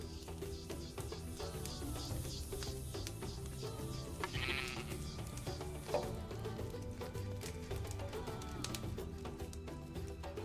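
Sheep bleat now and then in an early-access colony-building game, heard over steady background game music with no talk.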